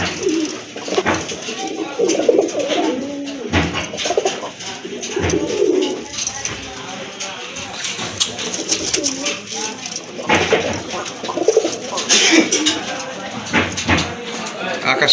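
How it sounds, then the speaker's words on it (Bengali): Pigeons in a fancier's collection coo repeatedly in deep, rolling bursts, close and overlapping, with people talking between and over the calls. "খুব ডাকে একটা কবুতর"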